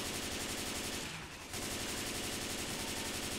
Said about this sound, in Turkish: Hareket eden her şeyi sıkıyorum